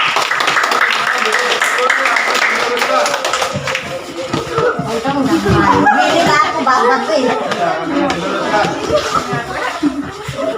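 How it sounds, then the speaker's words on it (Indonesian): A class of students claps hands amid lively chatter and some laughter, busy and close throughout. "Oke, tepuk tangan semuanya."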